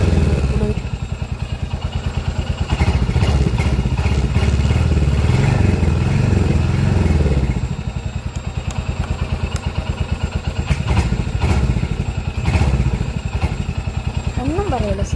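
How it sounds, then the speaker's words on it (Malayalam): A motorcycle exhaust barks and revs up close in repeated throttle blips over a throbbing idle, while someone talks over it. "എക്സോസ്റ്റൊക്കെ പുറത്തുന്ന കുറേ സൗണ്ടൊക്കെ കേൾക്കുമ്പോൾ തന്നെ"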